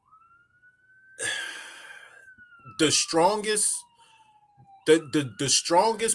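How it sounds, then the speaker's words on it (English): A siren wails steadily in the background, its pitch slowly drifting, while a person talks over it in short bursts. "there's an ambulance going past my house"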